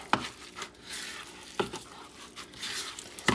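Salted ground beef being mixed by hand in a bowl, faint wet squishing and a few soft knocks recurring close by in an irregular rhythm, with no talking.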